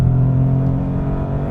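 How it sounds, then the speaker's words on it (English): A 2025 Toyota GR Corolla in third gear and sport mode runs at full throttle, its engine a loud, sustained, rising drone heard from inside the car, with no one talking. "Giving it heaps, that's full throttle."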